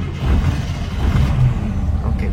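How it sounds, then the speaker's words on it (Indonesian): A 1988 Suzuki Jimny Katana's engine cranks and catches, settling into a loud, close, low rumbling chug over a couple of seconds, with no talk. "Kita coba startup kali ya biar kita bisa ngedengar suara mesinnya."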